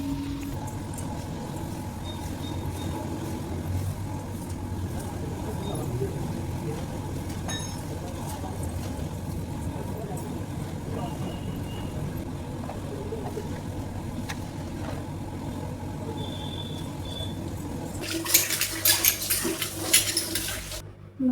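A water pump machine runs steadily while filling water, a continuous low mechanical hum with faint clinks and a burst of splashing near the end.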